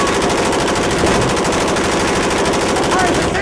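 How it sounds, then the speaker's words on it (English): Rapid gunfire rounds from a movie scene, a dense continuous rattle of machine-gun fire that stays loud and steady throughout with no pauses. "let's fire a few rounds out into the crowd here, man"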